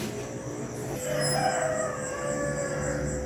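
Roosters crowing in the dark before dawn, with a drawn-out crow rising in the middle over a steady background hum, moderately near, with no talking.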